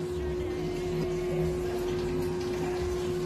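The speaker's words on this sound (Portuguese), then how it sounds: "Vou aguardar encher aqui para começar a bater para você ver aí a batida perfeita da máquina" A Consul 11 kg washing machine fills with water, a steady hum and rushing flow running continuously at moderate volume with a constant tonal drone from the pump.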